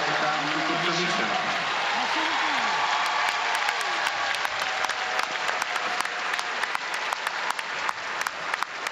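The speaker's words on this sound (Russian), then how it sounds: "Аплодируют и тренеры Светлана Веретенникова и Алексей Мишин." Arena crowd applauding at a figure skating competition in Zagreb, broad steady clapping that runs throughout, with a few sharper individual claps rising near the end and brief tonal sounds early on.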